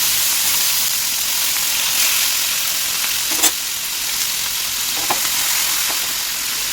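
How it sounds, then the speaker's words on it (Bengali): Steady, loud sizzling of mourala fish frying in hot oil in a wide pan, a continuous crackling hiss with a few brief clinks of a utensil against the pan. "আমার কিন্তু একবারেই মাছগুলো ভাজা হয়ে যাবে"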